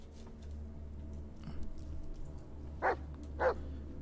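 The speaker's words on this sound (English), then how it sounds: "Man, that dog was trying to get my attention." A dog in the horror video game Blair Witch gives two short, clear barks about half a second apart over a low ambient hum, with a faint yip before them.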